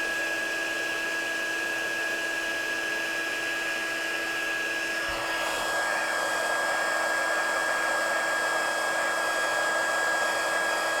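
A heat embossing tool blows steadily and loudly to melt embossing powder on a handmade card, a constant airy whir like a hair dryer that holds for the whole stretch with a slight shift midway.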